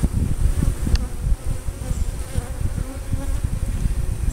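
Captured honey bees being rehomed into a hive buzz in a dense, steady swarm hum close to the listener, with no voices.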